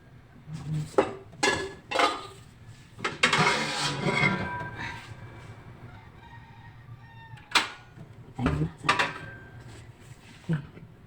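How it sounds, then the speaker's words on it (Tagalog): A ceramic frying pan is set down on a stovetop in a home kitchen, with a few sharp clanks and knocks spread over quiet stretches, plus a brief longer clattering rustle early on. "Salang pala ako guys ang kawali."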